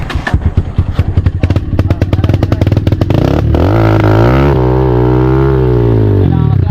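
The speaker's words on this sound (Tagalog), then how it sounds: "Pinag-iisipan namin kung paano namin mailalabas tong motor na to" A dirt motorcycle, one of an MMC 250, MMC 150 or Rusi KRY 200, is stuck on a muddy trail, its engine loud and close. It first revs in rapid, uneven bursts, then holds a steady high drone.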